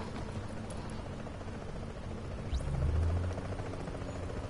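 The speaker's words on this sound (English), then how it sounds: "I hear a helicopter!" A helicopter in the video game The Division drones in the background, a low rumbling whir that swells slightly toward the end over steady game ambience.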